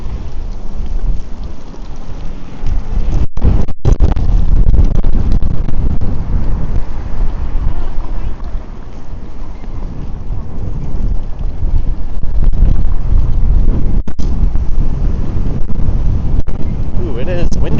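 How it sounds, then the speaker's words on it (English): Heavy gusts of wind buffet an outdoor microphone on a Toronto street near the University of Toronto's St. George campus, a constant loud roaring rumble with brief dropouts, and a voice speaks briefly over it. "Ooh, it is windy."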